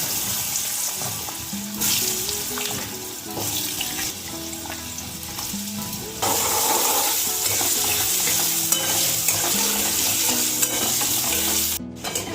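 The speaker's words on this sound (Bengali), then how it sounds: "ওই তেলের ভিতরে আমি আলুগুলো ভেজে নেবো" Potatoes fry in hot oil in a Bengali kitchen, a loud steady sizzle that grows more intense partway through, with scraping stirs of the pan scattered throughout and no talking.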